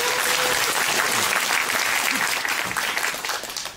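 An audience at a book concert event claps loudly to welcome the next speaker. The dense, continuous applause fills the room and begins to thin toward the end.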